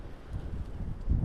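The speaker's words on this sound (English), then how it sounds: "on this sort of wind, it's a strong easterly blowing" Strong, blustery easterly wind at a trout fishery, buffeting the microphone in low, uneven rumbles that swell louder toward the end of a brief stretch.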